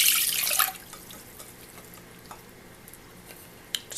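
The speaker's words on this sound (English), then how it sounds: "so you can just strain them out." Soaked tapioca pearls strained in a kitchen, water pouring and draining loudly for under a second, then fading to quiet drips and small splashes.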